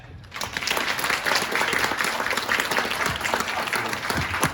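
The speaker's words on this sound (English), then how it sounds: "So a big round of applause for that." A crowd at Toronto Comicon claps for a live ghost-themed panel, a full sustained roar of applause that rises quickly and stays loud and dense throughout, with no clear talk.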